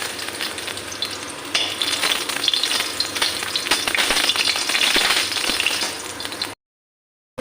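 Dried red chillies crackle and sizzle in hot oil in a wok, a steady close frying hiss with occasional stirring scrapes, cutting off abruptly near the end.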